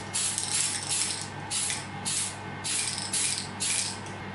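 Gaianotes metallic prism hologram paint sprays from an aerosol can in repeated loud hissing bursts of about half a second to a second each, separated by brief pauses.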